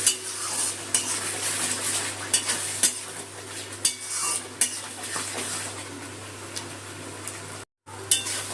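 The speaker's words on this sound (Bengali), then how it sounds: "মশলা বাটার জলটা দিয়ে আর একটুখানি 5 মিনিট মতো একটু কষিয়ে নেব" A spoon stirs and scrapes a fish curry spice paste thinned with water in a pan, with repeated metallic clinks against the pot over a low sizzle, close and steady.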